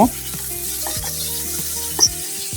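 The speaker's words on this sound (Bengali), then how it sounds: "পেঁয়াজগুলো একটু ভালো করে একটু ভেজে নিব" Onions frying in oil, a loud close sizzle with repeated stirring scrapes and a sharp utensil click near the end, no voices.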